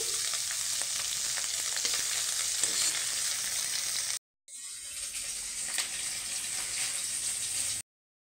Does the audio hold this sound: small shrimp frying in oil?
yes